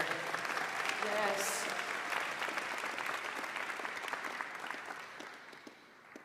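A commencement ceremony audience applauds the undergraduate speaker with sustained clapping that gradually fades, and a voice briefly speaks over it.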